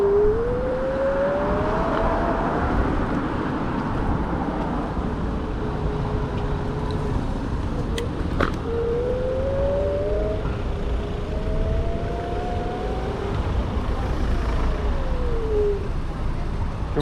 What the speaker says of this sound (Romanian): Și-mi place cum se aude frâna electrică în controlul ăsta.